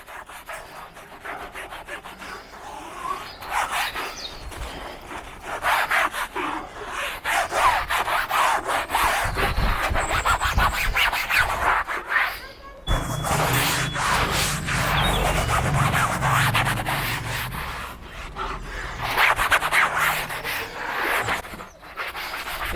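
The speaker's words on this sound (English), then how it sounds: "how hard you can actually rub into this roof with this sponge and it doesn't do any damage at all" A sponge scrubs cleaner into a convertible's fabric roof with repeated rough back-and-forth rubbing strokes, a close, scratchy, brushing texture that keeps going without pause, with a brief break midway and no talking.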